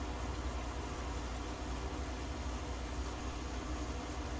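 A tractor engine idling in a farming video game, a steady, unbroken low mechanical drone with noisy hiss, constant in level and free of talk.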